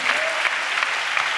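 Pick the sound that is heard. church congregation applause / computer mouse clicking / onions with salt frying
church congregation applause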